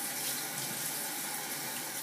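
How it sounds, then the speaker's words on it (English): Excess water runs and trickles steadily off a sheet of soaked watercolor paper, a continuous close hiss of splashing liquid with no pauses and no voices. "Let the extra water drip off."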